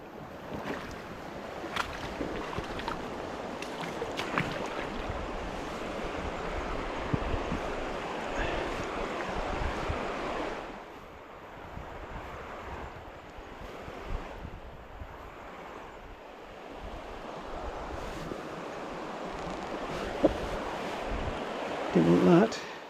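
River water flowing steadily around someone fly fishing on the Turia river, a continuous broad rushing wash with wind buffeting the microphone, dipping briefly midway and then rising again.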